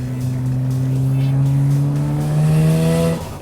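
Mazda FD RX-7 rotary engine pulling hard on a highway after a downshift, a smooth, steadily rising drone with clear harmonics that climbs in pitch and holds loud and close throughout before easing off at the very end.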